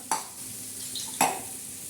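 A spoon stirs besan batter with reddened onion and tomato in a kadhai, giving two distinct scraping strokes about a second apart over a low, steady background hiss.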